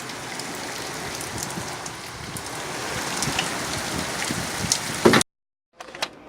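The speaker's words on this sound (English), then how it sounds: "it's trying to rain" Steady rain falling outdoors at night patters densely and evenly for several seconds before cutting off abruptly, followed by a brief burst of noise.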